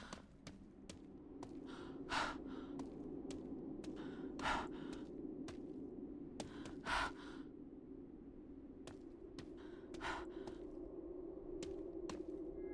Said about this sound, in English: Can I stop making that breathing noise?